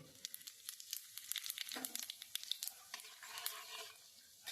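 White cumin seeds fry in hot oil in a pan, a close, steady crackling sizzle with bursts of popping and spatter that rise and fall without pause.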